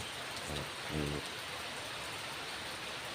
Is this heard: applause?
no